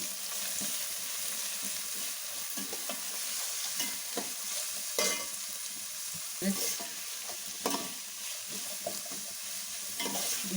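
Beans and carrots stir-fry in hot oil for street-style fried rice, giving a steady, soft sizzle broken by repeated scrapes and clanks of a spatula against the pan, fairly close and without talk.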